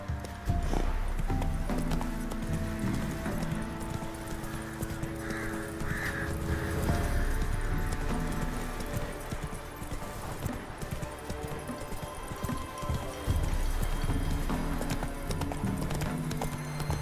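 Hooves clip-clop in a steady galloping rhythm as the horse Roach runs in The Witcher 3, with an occasional whinny, layered over continuous game music and ambience.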